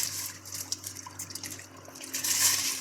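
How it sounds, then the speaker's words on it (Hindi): Soaked rice tipped into a pot of water for Hyderabadi chicken biryani, giving faint splashing and trickling pours that swell near the end, with a low steady kitchen hum underneath. "अब हम चावलों को पानी में ऐड करेंगे।"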